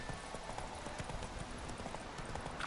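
Steady clip-clop of horse hooves trotting at a quick, even rhythm in the video game Witcher 3: Wild Hunt, fairly quiet with a faint background hum.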